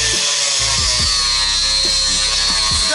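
Power saw with a cutting disc slicing through a car body's floor tunnel, a loud continuous high-pitched whine with repeated low thumps and judders as the blade bites into the metal.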